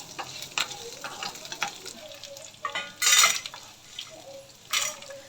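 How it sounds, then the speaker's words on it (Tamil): Garlic, green chili and onion frying in a pan with dal, a steady sizzle broken by scraping stirs and the clink of a utensil against the pan, with no talk. "அதிலே வந்து பூண்டு, அப்புறம் உங்கள் காரத்துக்கு ஏற்ற மாதிரி பச்சை மிளகா, ஒரு மீடியம் சைஸ் வெங்காயம், இதையும் போட்டு நல்லா வந்து ஃப்ரை பண்ணிக்கலாம்"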